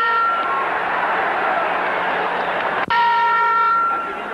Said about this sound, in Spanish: Vaya golpazos de Rubén Olivares cuando va a sonar la campana terminando.